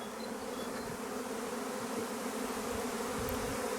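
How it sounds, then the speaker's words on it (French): A honeybee swarm pouring out of a hive on a spring day, a dense, steady buzzing hum of countless bees that fills the whole clip at an even level, close and continuous with no talk. "On peut assister à un essaimage en direct."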